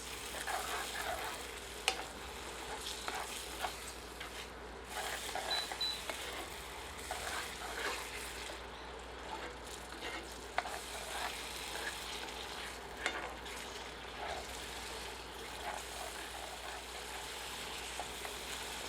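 A thick tomato masala sizzles in a pan while a spoon stirs it, with scraping and occasional sharp clicks against the pan over steady frying hiss.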